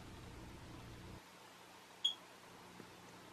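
A single short, high-pitched electronic chirp sounds once in a quiet room, followed by a faint soft tick.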